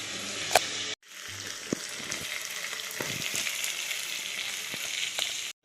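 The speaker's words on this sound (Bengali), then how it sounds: "ওদিকে বন্ধুরা কড়াই শাক ভাজা হচ্ছে" Leafy greens frying in a wok make a bright, steady sizzle. It starts with a short burst, cuts off briefly, then resumes as a continuous hiss with scattered light clatters and pops. No voices.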